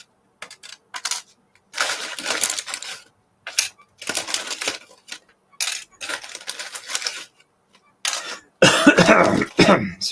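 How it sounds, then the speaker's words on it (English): Repeated harsh coughing fits close to the microphone, several rough bursts separated by short silences and ending in a louder, heavier spell. "Sorry about the coughing."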